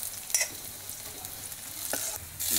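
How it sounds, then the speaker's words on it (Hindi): Onions fry in ghee with garlic in a pan for panchratan dal and are stirred steadily. A soft, continuous sizzle runs under light scraping strokes, close up and alone. "प्याज को भूनेंगे"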